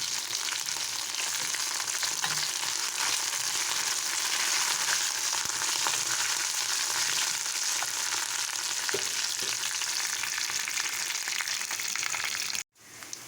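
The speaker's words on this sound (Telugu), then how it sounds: "ఇప్పుడు మనం కరివేపాకు వేసుకొని ఫ్రై చేసుకుందాం." Curry leaves crackle in hot oil over golden fried onions and seeds for a Telugu dosakaya roti pacchadi tempering, a steady loud sizzle with occasional stirring scrapes that cuts off abruptly near the end.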